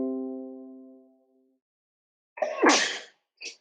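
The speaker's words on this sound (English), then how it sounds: "And I sneezed" A single loud, close sneeze bursts out after a few seconds of quiet, followed by a brief sniff, with a fading tone at the start.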